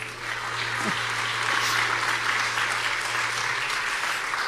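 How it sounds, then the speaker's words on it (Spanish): A church congregation breaks into sustained applause during a bilingual service, the dense clapping filling the room steadily and loudly from start to finish. "un aplauso para ella"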